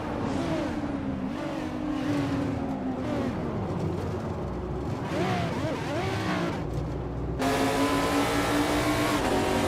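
A Ferrari F430 GTC race car roars in a racing video game, its engine note climbing and falling through gear changes and revs, loud and steady throughout, with a brighter, harsher surge near the end.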